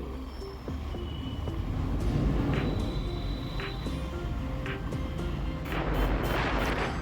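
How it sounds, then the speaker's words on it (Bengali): A motorbike climbs slowly up the mountain road at Parasnath hill in Jharkhand, its engine a steady low drone close by, with faint rattles and a rushing burst of wind near the end. "এই দেখুন, আমাদের বাইক আস্তে আস্তে এগোচ্ছে।"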